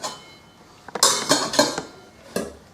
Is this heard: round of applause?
no